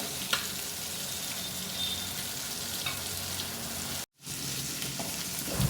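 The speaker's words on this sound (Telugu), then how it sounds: "అల్లం వెల్లుల్లి పేస్ట్ కూడా ఫ్రై చేసుకోవాలి" Ginger garlic paste sizzles steadily in a hot pan for a fish curry, a continuous close frying hiss with occasional stirring scrapes and a brief dropout near the end, no talk.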